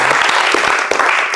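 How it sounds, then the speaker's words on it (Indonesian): A vocational automotive classroom breaks into short, loud applause, dense hand claps from a group of students filling the moment with no talk over them. "Tepuk tangan untuk Mas Dika bisa menyimpulkan."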